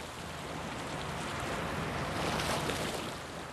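Aquare 1500 houseboat, roughly 15 meters long with a 100 hp engine, cruising on the Kiel Canal: a steady broadband wash of water and wind rushing past, swelling slightly midway, with no talking.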